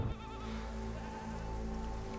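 Goats bleating from a herd of about forty, their repeated calls layered over a steady wash of background noise, with no talk.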